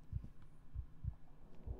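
A heartbeat thumps inside the video game Human Fall Flat, with four slow, muffled low double-beats spaced evenly over a faint hum, and nobody speaking.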